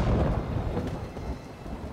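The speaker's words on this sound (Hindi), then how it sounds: "बिजली का गरजना उसके कदमों की आहट है" Deep rumbling thunder rolls continuously, loud and heavy, with a faint hiss of rain beneath it.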